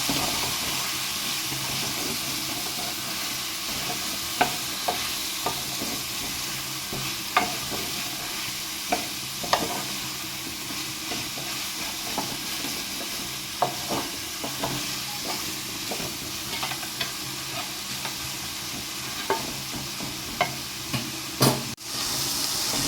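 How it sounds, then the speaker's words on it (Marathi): Chicken minestrone ingredients sizzle and roast steadily in a hot pan while a spoon stirs through them, with intermittent scraping clacks against the pan over a continuous frying hiss. "आपल्याला ते मस्त भाजून घ्या."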